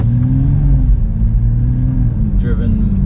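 A 2023 Toyota GR Supra's engine fires up and runs at a steady, loud idle with a low rumble, heard close, with a brief higher sound near the end.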